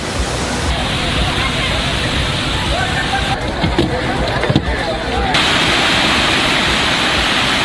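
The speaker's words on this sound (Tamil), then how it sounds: "அருவியில் குளித்து பரிசல் பயணம் செய்யும் சுற்றுலா பயணிகள்" A waterfall on the Kaveri river at Hogenakkal, where tourists bathe, pours as a loud, continuous roar of rushing water that fills the scene from start to finish, a broad and steady wash with brief fluctuations midway.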